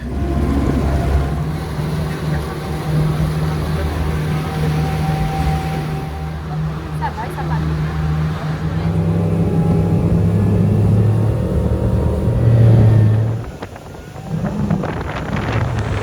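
A fast motorboat engine drones steadily at speed off Mauritius beneath heavy wind buffeting, with a brief exchange of French voices partway through.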